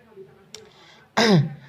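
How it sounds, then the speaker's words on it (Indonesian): A single sharp, throaty cough bursts out near the end after a stretch of quiet murmuring. "saya sambil batuk lagi"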